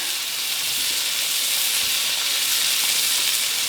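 Steady, loud hiss of a beef roast searing in a hot pan for Beef Wellington, a continuous broadband sizzle with faint crackles and no talking.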